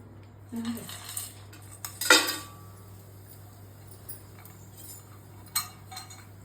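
Whole spices for biryani get stirred in a metal pot, with a few sharp scraping clinks of a spoon against the rim spaced out over a quiet background hum.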